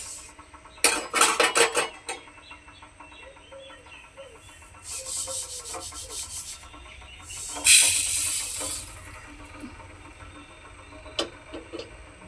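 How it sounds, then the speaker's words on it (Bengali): A wok (kadai) being washed at close range: bursts of scrubbing and rubbing with water hiss and light metallic clinks, loud then quieter, with pauses between strokes. "কড়াইটাকে হালকা করে ধুয়ে নিয়েছি, আবারও গ্যাসে বসিয়ে দিয়েছি।"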